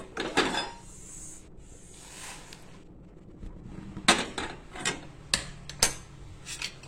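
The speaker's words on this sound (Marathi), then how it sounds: "आता आपण बडीशेप भाजतोय" Fennel seeds being dry roasted in a pan give off faint scraping and rattling as they are stirred and shuffled, in irregular short bursts over a quiet background.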